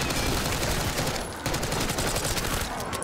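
Dense, continuous gunfire from Call of Duty: Black Ops 6 Zombies fills the whole stretch, loud and close, with rapid shots merging into a steady roar.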